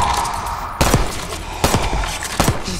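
A compact submachine gun firing in the campaign of the video game Call of Duty Black Ops 6: three sharp, loud shots or short bursts, spaced under a second apart, over a steady, noisy background din.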